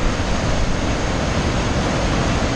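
Evolution Creek rushes steadily in a loud, broad wash of flowing water that fills the scene without a break, close by.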